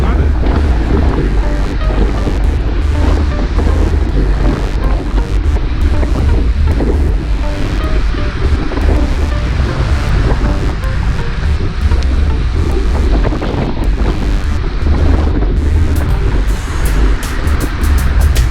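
Steady wind roars across the microphone throughout a road-cycling group ride, a loud, continuous broadband rush with gusty buffeting and no pauses.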